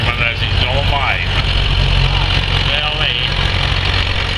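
A vintage Case LA tractor engine rumbles steadily at a low pitch while stuck in mud, a loud continuous drone with a voice talking over it.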